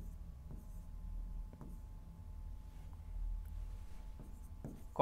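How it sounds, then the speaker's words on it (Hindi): A pen writes on paper while a math problem is worked out, soft faint scratching strokes with a few light taps over a low steady hum, ending in a louder bump. "तो यहाँ पे साइड में मैं लिखता हूँ"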